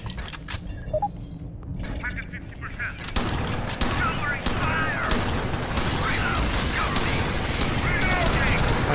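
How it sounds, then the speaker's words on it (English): Automated sentry gun firing during an Alien Swarm: Reactive Drop mission on the Deima surface, a continuous dense rattle of rapid shots after a quieter start, with speech mixed in. "I set up the sentry gun, hopefully it works!"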